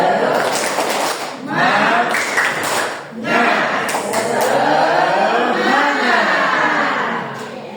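A group doing a tepuk semangat clapping routine, with rhythmic hand claps mixed into loud chanting voices. The claps and voices come in close bursts, with a short break around the middle.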